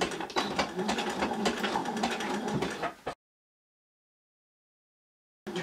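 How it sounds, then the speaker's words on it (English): Sewing machine stitching along the edge of a jersey t-shirt, a steady rapid mechanical chatter running for about three seconds and then cutting off into silence, with a brief restart at the very end. "Try not to stretch the t-shirt too much while you sew over it."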